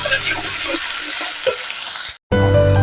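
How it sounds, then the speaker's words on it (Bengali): Crushed ginger and garlic fry with browned onions in a pan for an egg korma, giving a steady, close sizzle with light stirring scrapes, then an abrupt break and a different, louder cooking sound. "এবার আদা রসুন যেটা আমি থেতো করে রেখেছিলাম সেটা এর সাথে দিয়ে ভালো করে আরেকটু ভেজে নেব"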